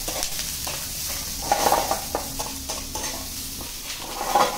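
Capsicum and onion fry for chilli paneer in a hot pan with a constant moderate sizzle, punctuated by irregular scrapes and clinks of a spatula stirring, close and without speech.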